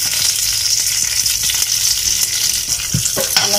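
Onions and curry leaves fry in a pan for a tangy curd dish, a steady close sizzle under soft stirring scrapes, with a few sharper clinks of the spoon near the end.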